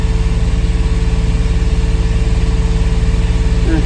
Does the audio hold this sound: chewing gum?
no